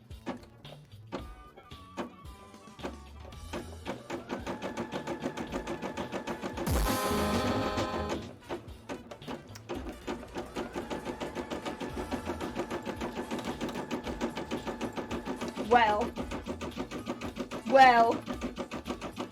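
A sewing machine stitching a bra hums in several runs of steady mechanical whirring, broken by pauses and clicks, with someone talking over much of it.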